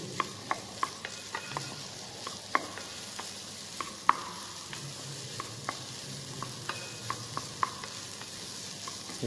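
Vegetables with celery stirred and frying in a pan for minestrone soup, with soft sizzling and a steady series of light utensil clicks and scrapes at close range.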